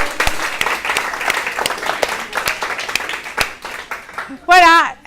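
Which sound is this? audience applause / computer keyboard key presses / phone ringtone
audience applause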